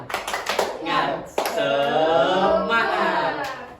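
A group counseling session claps hands in quick rhythmic bursts, mixed with voices chanting and shouting together.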